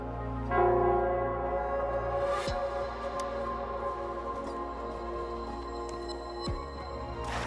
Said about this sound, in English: It's the bell.